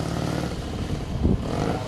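A 1927 Douglas works racing motorcycle with a 600cc two-cylinder factory racing engine roars on a racetrack, a loud, steady close drone with a brief surge partway through.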